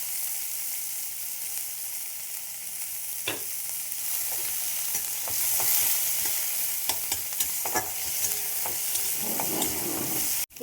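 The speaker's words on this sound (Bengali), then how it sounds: "এই জন্য আমি পেঁয়াজ ভেজে নিলাম।" Onions and garlic fry in hot oil with a steady, close sizzle and scattered stirring clicks from a utensil; no one speaks.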